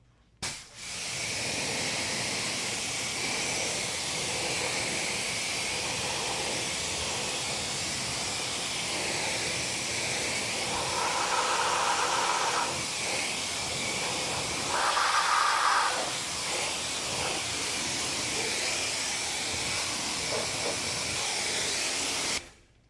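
A continuous water spray hisses as a car wheel and tire are rinsed, steady and close for about twenty seconds with brief shifts in tone as the jet moves across surfaces, no voices.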